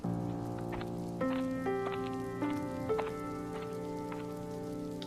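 Cartoon rain falling on a village, a steady soft patter of drops running throughout under a looping musical backing of sustained tones.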